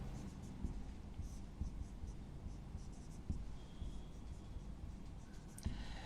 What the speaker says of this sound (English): Let me write ethylene diamine.